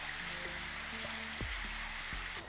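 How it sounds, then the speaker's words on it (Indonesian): A river current rushes beside a forest trail at the foot of the Bukit Barisan hills in West Sumatra, a dense, constant roar of water close by with faint small animal sounds underneath. "Atmosfer hutan dengan suara binatang kecilnya berpadu dengan derasnya arus sungai di samping kanan kami."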